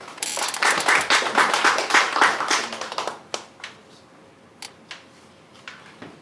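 An audience claps to welcome a council chairman at a memorial discussion event, a burst of close applause that thins after three seconds into a few scattered, isolated claps.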